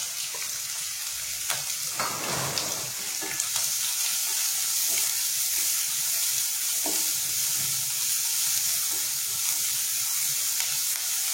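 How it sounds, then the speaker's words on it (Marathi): Mustard seeds, green chili, onion and curry leaves sizzle and crackle steadily in hot oil in a pan, a close, continuous hiss with occasional stirring clatter and no talking. "इथे मोहरी तडतडलेली आहे, त्यात आपण मिरची आणि कांदा घालूया आणि कढीपत्ता"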